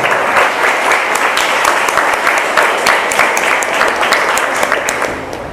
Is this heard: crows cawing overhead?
no